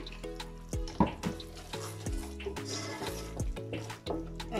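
Caramelized mango with chili flakes simmering in a pan, a steady close sizzle and bubbling with occasional stirring scrapes and clinks throughout.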